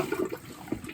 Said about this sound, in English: If you need a flush again, come across,